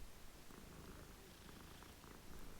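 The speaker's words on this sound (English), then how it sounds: "You're petting a cat." A cat in Hogwarts Legacy purrs while being petted, a continuous low, rumbling purr that is very faint and sits under steady background hiss, with no talking.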